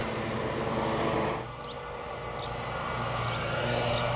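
An Amtrak Acela train passes, a broad rushing rumble of rail wheels and motion that is loudest at first, then eases slightly and carries on steadily.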